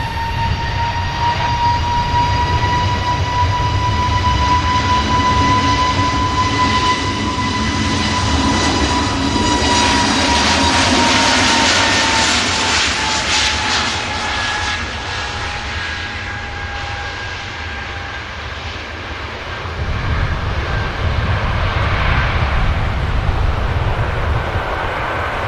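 An EasyJet Airbus A320neo bound for Mahon at Manchester Airport gives off a loud, continuous jet roar with steady whining engine tones that shift slowly over time, close by and with no talk.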